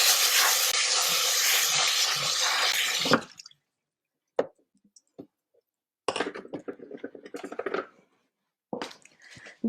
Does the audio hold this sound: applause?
no